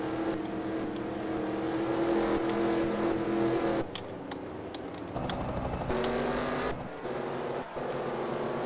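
Race cars roar through the final laps of a stock car race, with engine drones rising and falling as they pass and loud revving that shifts in pitch over several seconds.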